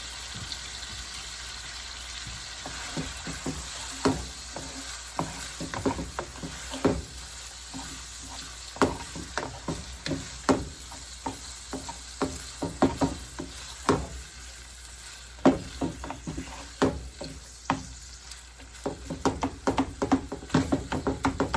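Onions fry and sizzle in a pan for loaded ground beef nachos, a steady hiss broken by frequent scraping and stirring clicks of a utensil, close and continuous.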